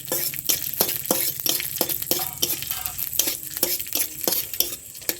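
Garam masala, bay leaf, cashews and raisins fry in hot white oil, with a spatula scraping the pan in a regular rhythm, about twice a second, over a soft sizzle.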